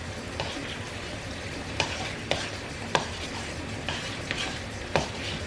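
Chicken enchilada filling being stirred in a bowl with a utensil, soft scraping under several sharp clinks of spoon against the bowl, close and moderately loud, no talking.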